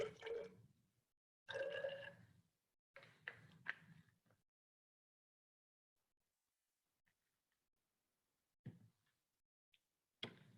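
Water pours into a 50 ml graduated cylinder in a few short bursts of trickling and splashing over the first four seconds, followed by near silence broken by faint drips and clinks.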